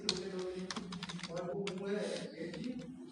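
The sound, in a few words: typing code on a computer keyboard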